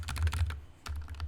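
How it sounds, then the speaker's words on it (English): Keys clack in quick bursts on a Turtle Beach Vulcan II TKL Pro gaming keyboard, a fast run of close, fairly quiet strokes, a brief pause, then more typing. "I'm going to point this down so you can hear me type."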